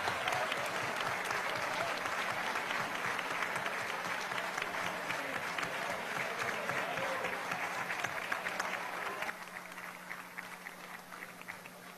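Steady applause from a large crowd of legislators fills the chamber for several seconds at a swearing-in of new magistrates, then drops to a softer, thinner clapping toward the end.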